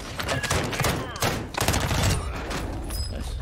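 Rapid automatic gunfire and bursts of shots in the video game Warzone during a ranked match, loud overlapping volleys with thuds, close and dense throughout the few seconds.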